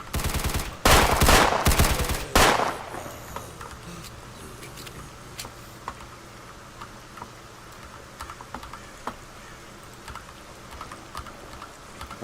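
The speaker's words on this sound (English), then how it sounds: "I'll just use my pistol on them for now." Pistol fire at zombies in STALKER Call of the Zone: a quick cluster of loud sharp shots early on, then faint scattered clicks and distant pops over a low background.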